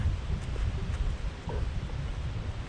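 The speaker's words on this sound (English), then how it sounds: "It's windy as a beauty." Cold wind blows outdoors and buffets the microphone in uneven rumbling gusts, with faint rustling over a steady low roar and no speech.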